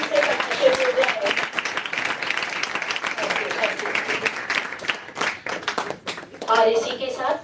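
An audience at an annual day celebration applauds in a dense, sustained wash of clapping that thins slightly before a fresh burst near the end, with a voice speaking over it.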